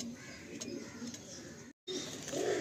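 Loft pigeons, a male and a female among many in a home-bred loft, coo in soft, overlapping low murmurs, briefly cut off by a gap before the cooing swells again.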